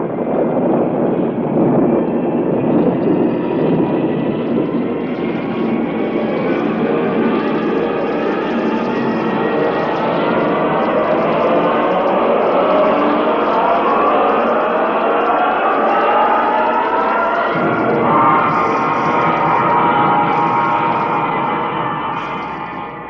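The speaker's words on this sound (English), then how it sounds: "Countdown for blast-off. X-5, 4, 3, 2, X-1, fire." A rocket blast-off effect for a 1956 science-fiction radio drama: a loud, sustained roaring rush that swells steadily, rises in pitch, and fades at the end, with no voices.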